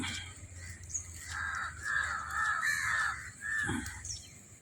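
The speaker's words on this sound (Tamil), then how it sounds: "காகங்களோடு சேர்ந்து மைனாவும் உணவருந்துகின்றன." Crows and mynas caw repeatedly while feeding together outdoors, a flock of fairly close, harsh overlapping calls with no talk.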